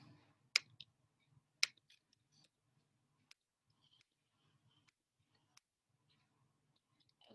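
Sparse clicks from typing on a computer keyboard, a few sharper taps among faint scattered ticks, quiet and irregular with long pauses and no talk over them.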